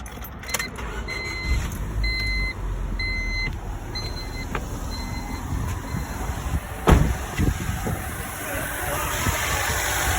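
A 1998 Honda Civic with a VTEC solenoid starts up and settles into a steady idle, a continuous engine hum with a few intermittent electronic beeps at the start and one sharp knock partway through.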